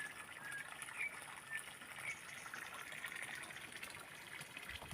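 Groundwater trickles and flows steadily at a low, even level, with faint birdlike chirps scattered above it.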